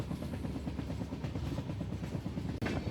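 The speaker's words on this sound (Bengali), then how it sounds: "ট্রেনটি বেঁকে বেঁকে স্টেশনে ঢুকছে।" Continuous low rumble and rhythmic clatter of a train rolling slowly along curving tracks between tea gardens in the Dooars, West Bengal, approaching a station, loud and close, with no voices.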